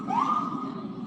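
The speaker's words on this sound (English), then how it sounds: "But it's always an ambulance or a fire truck going by." An emergency vehicle siren, an ambulance or fire truck going by, rises in a single wailing sweep over low traffic rumble, moderately distant.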